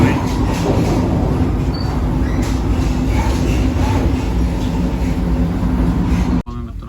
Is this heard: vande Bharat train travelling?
yes